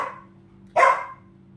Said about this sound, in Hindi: मेरे डॉग तक पीछे से भौंकने लगता है।